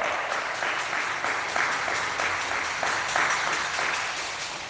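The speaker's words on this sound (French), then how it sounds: "Acclamons-le très fort." A church congregation at an Easter-season Mass applauds to acclaim the risen Christ, with steady, even clapping from many hands that fills the room and slowly fades toward the end.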